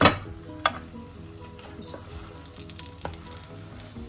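A chicken wrap fries in a pan over low heat, a soft steady sizzle close by with a few light clinks and scrapes of a utensil against the pan.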